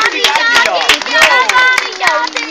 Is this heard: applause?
yes